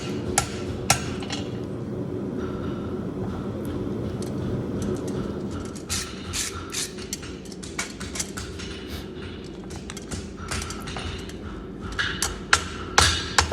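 A farrier forges a horseshoe on an anvil, with sharp metallic hammer strikes coming in irregular bursts over a steady background hum and faint bird cooing.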